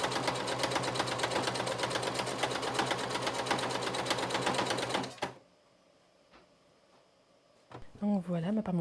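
A sewing machine stitching a seam about 1 mm from a fabric edge runs close in a fast, even rapid-fire chatter for about five seconds, then stops into near silence before a voice begins speaking.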